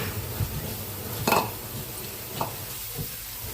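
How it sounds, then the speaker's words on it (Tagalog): Pork cubes and chayote sizzling in a hot frying pan, a steady low hiss with a couple of brief scraping stirs and a clink of a utensil against the pan. "Lagyan na natin ng pork cubes. Sabay na natin yung ating sayote."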